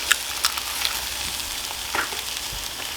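Eggs frying over high heat in a hot pan, a constant crackling sizzle with a few sharp spatters and light scrapes of stirring, close and alone without any voices.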